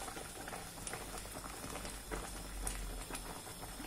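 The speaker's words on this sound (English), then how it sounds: "I will be adding a little bit of warm water to" Warm water is poured into a pot of ogbono soup on the stove, a soft steady splashing and bubbling patter, faint and continuous without talk.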